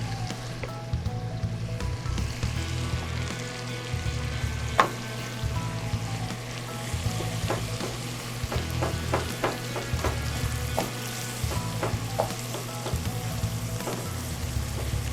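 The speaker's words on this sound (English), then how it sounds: "Got that sizzle going." Steady frying sizzle of chicken in a hot pan fills the clip, a close crackling hiss with scattered pops and spits, continuous throughout with no voices.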